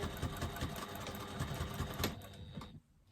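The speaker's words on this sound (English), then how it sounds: "The second row of stitching just outside of the first row." A sewing machine stitches a second row of stitching just outside the first along a lined flap, a steady close mechanical whirr running continuously before stopping abruptly near the end.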